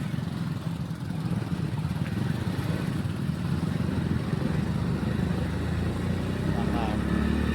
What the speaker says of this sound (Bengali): আর এই যে আমাদের বাইক যাচ্ছে